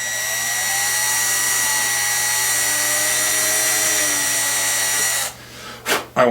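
A power drill whines steadily and loudly while re-drilling pickguard screw holes on a Squier Telecaster, then winds down into a few short bursts at the end.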